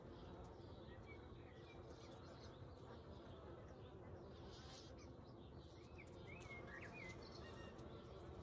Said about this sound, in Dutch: Ik kom bij de vuurdoorn en ik hoor de hommels en de bijen.